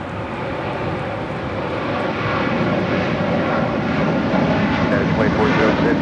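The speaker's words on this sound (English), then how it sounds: "We have Qatar Airways 742 now rotating." A Qatar Airways Boeing 747-8 takes off at a busy airport, its heavy jet-engine roar loud and continuous and building steadily as it climbs away, with no talk.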